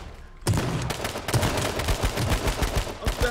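Gunfire in the video game H1Z1, a dense burst of rapid shots starting abruptly after a brief quiet moment and continuing loud and steady to the end.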